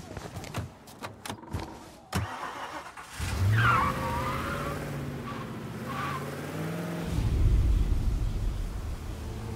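Car engine in Mafia Definitive Edition starting up and driving off after a burst of short clicks and thumps, a steady moderately loud motor hum with rising revs carrying on to the end.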